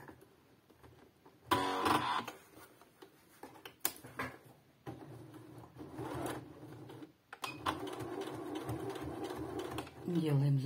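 A sewing machine stitches through fabric pages made from old clothes, running in a few loud bursts with short pauses between them, while a voice talks over it.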